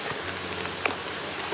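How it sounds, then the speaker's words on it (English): Light drizzle falling outdoors in a valley, a soft continuous patter of fine rain with one brief small drop or tap partway through, steady and fairly quiet. "It's really just a little bit of drizzle."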